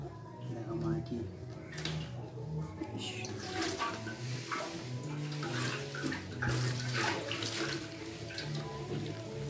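Cleaning liquid splashes and trickles out of a motorcycle fuel tank in uneven gushes, close and fairly soft, while a person talks over it.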